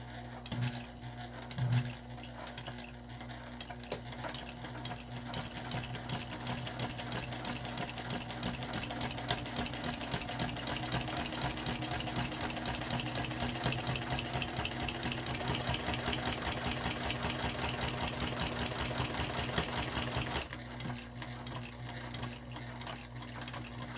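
A sewing machine top stitches a crossbody bag panel, running as a steady, fast mechanical whir with a constant motor hum for about twenty seconds before slowing at the end.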